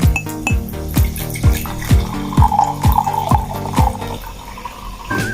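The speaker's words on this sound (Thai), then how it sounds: "ต่อไปน้ำโซดาครับ ใส่แก้วนี้แก้วใบที่สอง" Soda water pours into a second glass, a bright continuous splashing stream with fizzing and rising liquid tone, punctuated by repeated hollow knocks and clinks of glassware, close and fairly loud.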